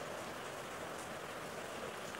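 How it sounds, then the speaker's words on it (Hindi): Steady rain falling in a video game, a soft even hiss of drops with no other sounds, heard alone for a couple of seconds. "अरे भाई बारिश हो रही है"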